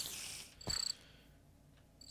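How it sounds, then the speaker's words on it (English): Crickets chirp quietly in Minecraft in brief high trills, two spaced bursts separated by a low soft rumble. "I love the crickets."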